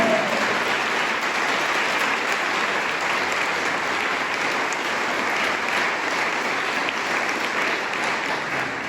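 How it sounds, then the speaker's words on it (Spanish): A church congregation gives strong, sustained applause to the Lord, an even roar of many hands clapping continuously without a break. "Se le va a dar un aplauso al Señor, un fuerte aplauso a Él."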